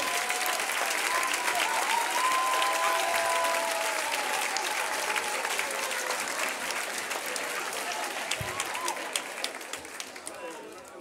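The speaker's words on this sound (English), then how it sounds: "Make some noise for Kiyamu, please" An audience at a Summer Dance Forever 2023 locking dance battle semi-final applauds and cheers a competitor, a loud dense wash of clapping that stays steady and fades slightly toward the end.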